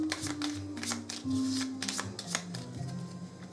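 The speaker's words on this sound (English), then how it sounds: "we draw four cards, and then the rest get shuffled" A deck of playing cards for a colonial horror board game is shuffled by hand, giving a steady run of rapid riffling flicks close by that repeat for several seconds under a low background hum.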